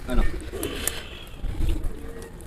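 Pigeons at a pigeon-flying tournament coo softly in low, throaty bursts, close by, as they are picked up one by one and fed, with a person talking over them.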